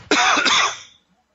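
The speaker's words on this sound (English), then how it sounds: "Always coughing" A man gives a single harsh, loud cough up close, a short burst that fades out quickly into silence.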